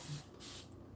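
A hand spray bottle mists hair during detangling, giving two or three short, loud hissing bursts close by with brief pauses between them and no talk.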